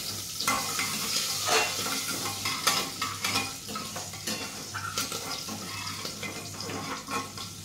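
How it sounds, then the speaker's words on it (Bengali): Whole garam masala and cumin seeds sizzle and crackle in hot oil for a Bengali dish, with a spoon stirring and scraping the pan throughout, close and steady with no talk. "এই হচ্ছে আমার ফোড়ন, এটা একটু করছি।"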